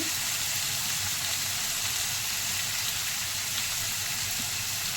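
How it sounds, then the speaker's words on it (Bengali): Potatoes fry in a pan with a steady, dense hiss and sizzle that stays even throughout, close and moderately loud with no talk over it. "আলুটা ভাজা ভাজা হয়ে গেছে"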